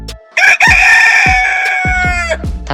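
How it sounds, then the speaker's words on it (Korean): Loud, close rooster crowing in several long drawn-out calls, punctuated by short clucks and squawks from other chickens, with no voices present. "닭들은 큰 소리로 울어대기 시작한다고 합니다."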